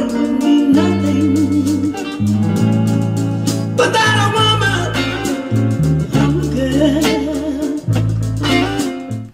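Electric guitar plays the opening riff of a song as a lesson demonstration, with sustained clean chords and moving single-note lines over a steady low part, loud and close, no talking.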